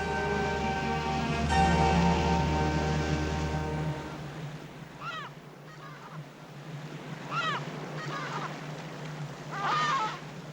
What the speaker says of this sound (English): Penguins rest for a moment like ducks after their long voyage from the rookeries.